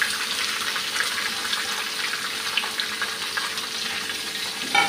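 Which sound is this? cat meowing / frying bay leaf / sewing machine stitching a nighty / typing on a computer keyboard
frying bay leaf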